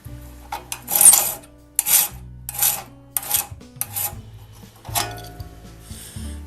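A hand file rasps across the raker tooth of a one-man crosscut saw in a series of separate strokes, each a bright scraping burst followed by a short pause, close and clear with no talking.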